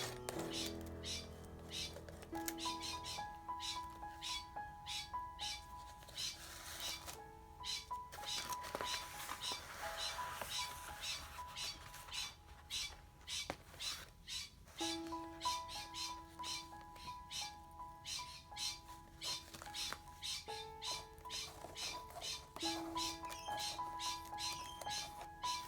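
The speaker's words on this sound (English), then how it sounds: "The birds outside have gone completely crazy," Birds chirping outdoors, heard from inside a room: a dense run of quick, sharp chirps repeating throughout at moderate, fairly distant loudness, with a few steady tonal sounds alongside.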